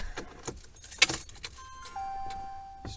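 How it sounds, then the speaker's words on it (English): Car keys for a Ram 1500 pickup jangling close by, a few bright metallic rattles including one sharp shake, with a faint electronic tone underneath and no talk. "Oh, where's the keys? Alright, we got the keys."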